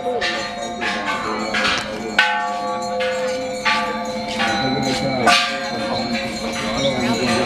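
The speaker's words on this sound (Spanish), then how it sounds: "Y ahora toca el gong." A large temple gong at Wat Saket, the Golden Mount in Bangkok, Thailand, is struck several times. Its bright, long ringing overlaps from strike to strike against faint crowd sounds.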